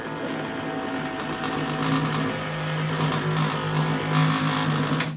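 A small electric snowblower chute motor on an Ariens 1336 whirs steadily with a buzzing, slightly rattly hum, running continuously at a fairly constant pitch.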